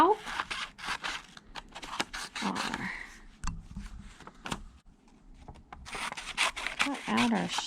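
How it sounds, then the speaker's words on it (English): Scissors snip around the edge of a paper diamond shape for party decorations, with a run of close, crisp cuts and paper rustling, broken by a pause and quiet talking. "now we will start cutting our diamond shape out on almost the edge"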